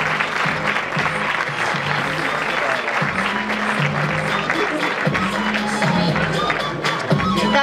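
Applause from an audience at a women's council awards event, steady and dense for the whole stretch, with a low tonal music line and murmured voices running underneath.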